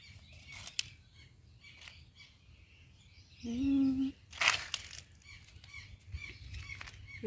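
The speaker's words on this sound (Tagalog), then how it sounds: "Daming huni ng mga ibon" Scattered bird chirps and tweets come and go against a low background hum, with a louder honking call midway and a sharp burst of chirping after it.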